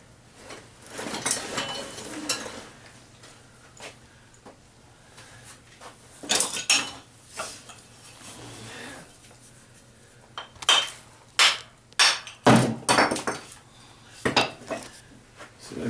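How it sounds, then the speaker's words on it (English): Hard, sharp taps from a hammer on bricks during bricklaying come in scattered bursts, sparse at first and then in a denser cluster of clinks near the end, close and clear over a faint hum. "This is where your hammer come in handy."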